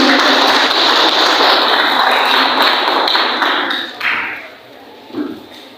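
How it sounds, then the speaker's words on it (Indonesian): An audience at a labor union meeting on a stage applauds a man called up, a dense sustained wave of clapping that thins and fades out near the end, leaving a few scattered claps. "Tepuk tangan."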